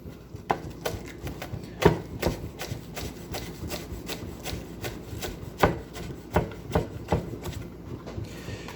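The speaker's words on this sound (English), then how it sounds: "The rest I'm going to chop up." A knife chops chives on a cutting board in uneven bursts of crisp taps, some strikes sharper than others, close and fairly quiet with no speech.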